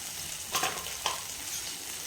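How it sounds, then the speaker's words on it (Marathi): Drumstick pods sautéed with turmeric and salt in a pan give a soft, steady sizzle with a couple of brief stirring scrapes, faint and close, with no talking. "छान परतून घेऊया."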